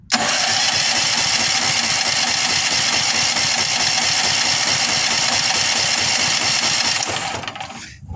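A Firman H07552 generator converted to run on natural gas roars steadily at close range, a loud, constant mid-pitched engine drone that holds for about seven seconds before cutting off abruptly near the end.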